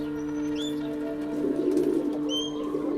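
Pigeons coo softly in a rural Punjabi farmyard, low rolling calls over a faint steady hum, with a few thin chirps and a brief flutter of movement, no voices.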